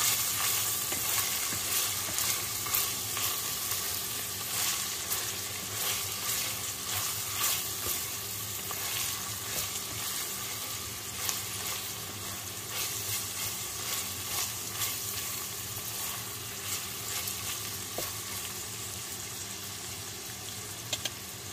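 Food sautés in butter in a pan with a continuous bright sizzle and occasional stirring clicks, close and steady throughout with no talking.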